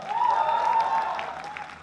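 Loud, steady applause from an event audience at Bigg Boss OTT 3, a dense wash of clapping filling the space, with some crowd noise mixed in and tapering slightly toward the end.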